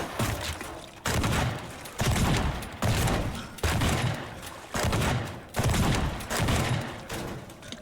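Shotgun blasts in the destruction game Teardown go off in a steady series of about eight heavy booms, roughly one per second, each with a short rumbling tail, no voices present.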